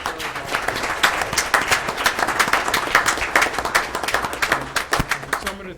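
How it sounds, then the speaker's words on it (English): An audience applauds committee members at an evening committee meeting, a dense, steady round of clapping with sharp individual claps standing out, lasting the full stretch at even loudness. "Please give them a nice round of applause."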